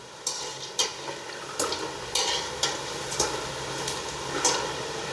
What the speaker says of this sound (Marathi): आणि कमी गॅसवरच असं तळायचे